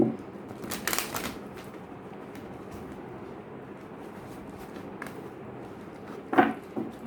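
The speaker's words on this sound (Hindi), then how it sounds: "चलिए स्टार्ट करते हैं रीडिंग को और आखिर कार्ड से भी कुछ कार्ड्स निकाल लेते हैं" Tarot cards handled and drawn from a deck during a reading, with soft shuffling and flicking bursts near the start and a brief card snap near the end over a quiet room.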